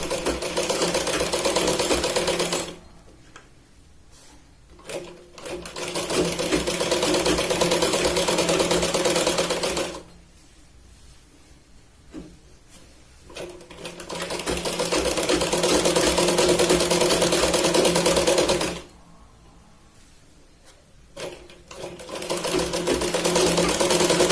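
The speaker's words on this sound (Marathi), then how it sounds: "इथे पूर्ण आपण शिलाईन कमरेच्या कडेने लावून घेऊया।" Sewing machine stitching the waist edge of a katori blouse, running in loud steady bursts of several seconds separated by short pauses, close up.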